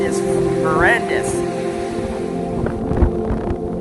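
Strong gale-force wind roars and buffets the microphone on an outdoor rock-hunting shore, a constant rushing blast under a voice talking.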